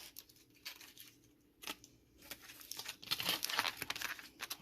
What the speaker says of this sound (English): So now we're going to take off the foil.